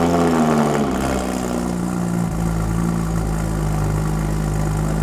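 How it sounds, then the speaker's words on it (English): A Porsche 987.2 Cayman S with a Design Tech exhaust, including manifolds and cats, idles loudly on a cold start with its flaps closed. The steady, close rumble settles slightly lower after the first second, with no talking. "97 cold start with the Design Tech exhaust,"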